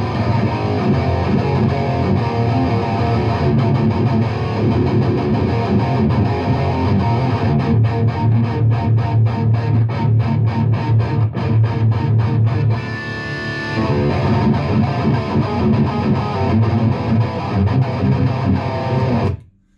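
Electric guitar played through a Fractal FM3 amp modeler with a heavily distorted tone, loud, steady and continuous for about twenty seconds, with a brief dip near the end before it cuts off.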